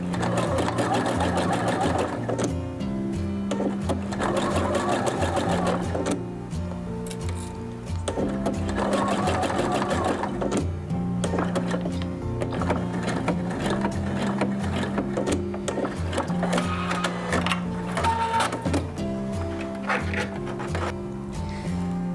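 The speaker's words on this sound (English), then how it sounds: "seam cover is now sewn and we have this top stitch here and the bobbin thread on the other side" Sewing machine running steadily as it stitches a back neckline seam cover, a loud continuous mechanical whirr with rhythmic needle chatter and brief pauses and restarts, close-up with no voice over it.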